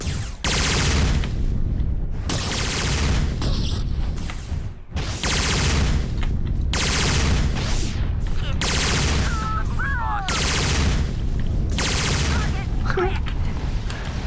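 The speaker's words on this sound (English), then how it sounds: "don't stay in the explosion radius." Dense, loud explosions and rapid gunfire in the 1999 Dynamix game Starsiege, continuous booming bursts with brief gaps throughout.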